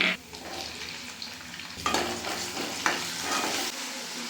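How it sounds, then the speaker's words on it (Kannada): Tomatoes fry with onions and mustard seeds in a pan for onion sambar. A close crackling sizzle is heard, with a couple of sharp scraping stirs and light clinks of the utensil against the pan, and no speech. "ಟೊಮೊಟೊ ಚೆನ್ನಾಗಿ ಫ್ರೈ ಆಗಬೇಕು."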